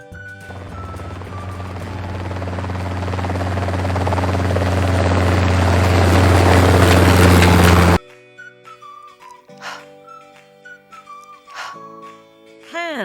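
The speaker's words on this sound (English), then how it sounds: "Helicopter." A helicopter's rotor and engine roar builds steadily louder for several seconds, then stops abruptly, followed by brief whistle-like tones.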